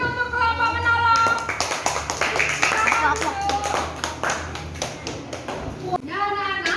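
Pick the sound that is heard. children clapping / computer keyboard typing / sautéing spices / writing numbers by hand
children clapping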